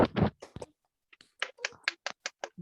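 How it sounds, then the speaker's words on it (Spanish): Small group in a Spanish-language early childhood education session clapping, a few scattered, sharp claps at first, then a quiet gap, then a run of distinct rhythmic claps close by. "Fuertes palmas para Isaida"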